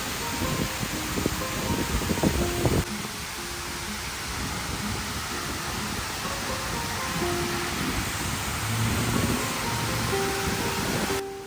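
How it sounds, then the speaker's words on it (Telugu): Waterfall water pours in a dense, steady broadband rush near Houston, continuous and fairly loud, with some faint background clatter early on and no voices. "సో వాటర్ అయితే ప్రస్తుతం only back side of water falls release అవుతూ ఉన్నాయి."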